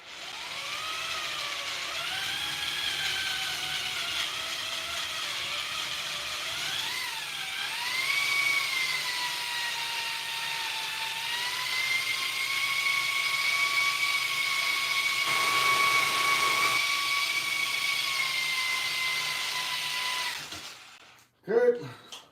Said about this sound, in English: You just drill it out enough.